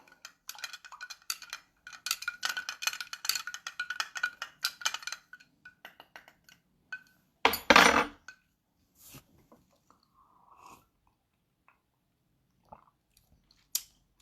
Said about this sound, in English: We're going to mix this bad boy up.